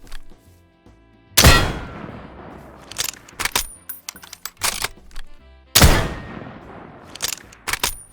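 Sniper rifle shots from the Minecraft TaCZ gun mod: two loud, sharp booms several seconds apart, each followed by a quick run of clicky reload and bolt-action clacks.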